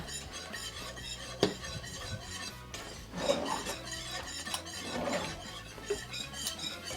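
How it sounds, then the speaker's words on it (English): A whisk beating ingredients in a bowl during a home burger cooking session, giving a steady scraping, clinking rhythm of metal against the bowl, fairly close and continuous with a few sharper knocks. "I am whisking it for the biscuit."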